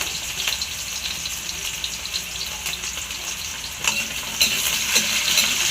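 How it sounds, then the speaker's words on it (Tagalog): Potatoes fry steadily in hot cooking oil, giving a continuous close sizzle with occasional stirring clatter and a slight rise in intensity near the end; no one talks. "Nagpainit na nga ni pala muna ako ng mantika at dito pinarito ko ito munang patatas."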